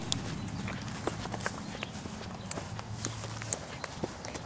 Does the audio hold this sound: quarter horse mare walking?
yes